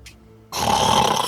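A large dragon snores in a fantasy story: one deep, rough, rumbling snore, loud and close, after a brief faint sound.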